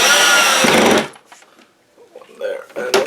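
An electric screwdriver whirs loudly for about a second as it drives a screw back into a Hisense dehumidifier, followed by quiet handling noises and a few soft clicks.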